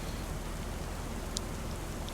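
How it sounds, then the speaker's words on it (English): Steady rain in Farming Simulator 25, an even wash of falling drops with no voices. "get rid of this rain. Don't know when it's going to finish."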